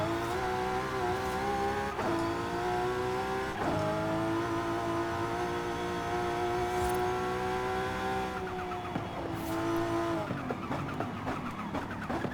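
A BMW car in Forza Horizon 5 roars continuously under hard acceleration, its engine pitch climbing and dropping sharply at each gear shift, with tire squeal near the end.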